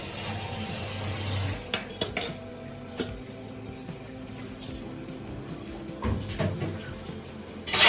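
A lid is set onto a pot of steaming momos in a home kitchen, with scattered metallic clinks and knocks of cookware over a low background hum, moderately close.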